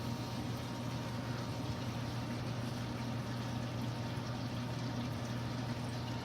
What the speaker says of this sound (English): perfect water flow